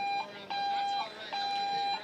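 At a canoe-kayak freestyle world championship on a whitewater course, an electronic buzzer sounds in repeated steady tones with short gaps, heard under commentator talk and river noise.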